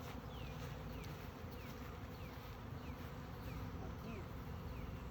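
Honey bees swarm around a hive after a colony split, a dense continuous buzzing of many insects with individual bees zipping past close by, steady and moderately loud.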